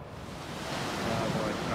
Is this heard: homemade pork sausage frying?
no